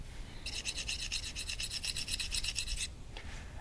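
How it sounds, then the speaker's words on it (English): A knife blade scraping residue off an arrow shaft in a quick run of short rhythmic rasping strokes, close and fairly quiet, lasting about two seconds before stopping. "I'm going to take the knife again and just make sure that I get all of that scraped off"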